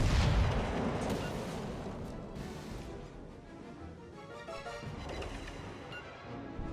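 Battleship Warspite's guns firing a salvo in World of Warships Legends, a heavy rumbling blast at the start that decays into a lingering low roar with scattered distant crashes, no talking.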